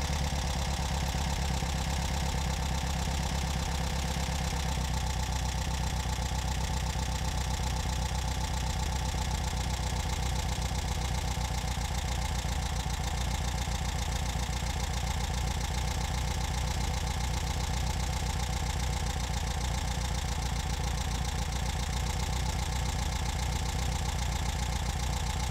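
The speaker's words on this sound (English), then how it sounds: "I adjust it back to about 900 RPM by turning the large bypass screw on the side of the carburetor" A VW Beetle engine with a 009 distributor idles steadily at about 900 RPM after carburetor bypass screw adjustment, giving a continuous even rumble with no talking.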